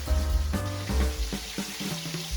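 Oil sizzles and crackles steadily as chicken fries for a fried chicken sandwich, a close, dense hiss with low thumps from handling in the pan.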